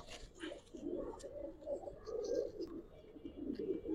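Giribaz pigeons from a Palla-line collection cooing steadily in low, rolling murmurs, several birds overlapping close by in a continuous soft burble with no talk.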